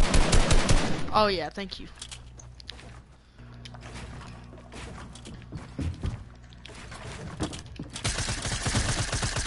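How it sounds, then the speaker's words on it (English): Bursts of rapid automatic gunfire and SMG spray in a shooter video game, loud at the start and end with quieter stretches between, while a player talks briefly over it. "you miss every single shot that you fire"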